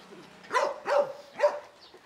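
Three sharp barks from a Kangal dog spaced about half a second apart, loud and close, with a faint quieter sound between them.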